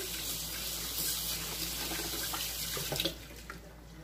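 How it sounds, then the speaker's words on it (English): Running tap water splashes steadily into a sink as a pan is washed, with brief clanks of the pan near the end before the flow quiets. "Wash my pan."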